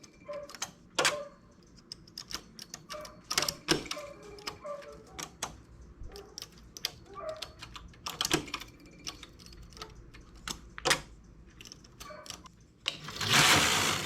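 A manual knitting machine works rows of lace stitch, giving irregular mechanical clicks and clacks from the carriage and needles, then a brief louder sliding rush at the end.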